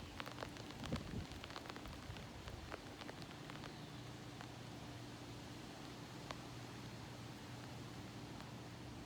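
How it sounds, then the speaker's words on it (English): Light rain easing to a sprinkle, a steady soft patter of drops with scattered sharper ticks close by, holding at an even, moderate level throughout. "The rain has slowed down to a light sprinkle"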